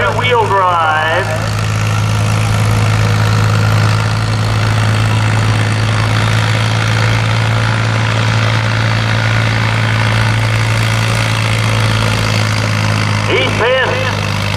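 A two-wheel-drive Ford 3930 farm tractor pulls in the 8000 lb farm stock class at a tractor pull, its heavy engine droning loud and steady throughout while an announcer talks over it.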